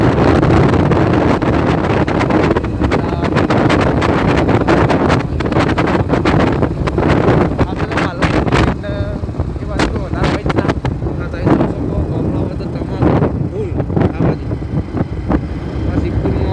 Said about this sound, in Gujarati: બાઇક લઈ અને આપણે જઈ રહ્યા